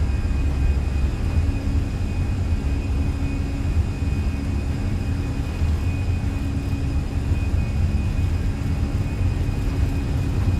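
Airbus A320 in Microsoft Flight Simulator (Fenix A320) at takeoff thrust on the Stavanger runway, a steady loud engine roar and rumble with a constant whine holding throughout, no talk.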